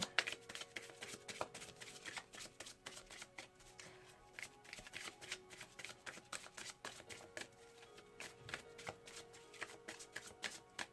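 Tarot cards are shuffled close up in a quiet room, a continuous soft riffling and flicking with rapid papery slaps and no voices.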